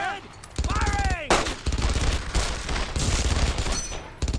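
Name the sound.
gunfire in the video game Brothers in Arms: Earned in Blood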